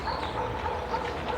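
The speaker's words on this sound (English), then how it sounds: "He's only barking, it's alright." A dog gives short repeated barks and yips close by, a quick burst of small noisy calls over a brief moment with faint background sound.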